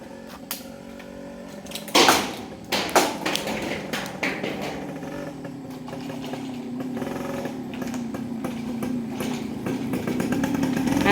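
A motorcycle engine runs during a test ride after repairs, starting with a few sharp knocks, then settling into a steady buzzing drone that slowly swells louder toward the end, with no voices.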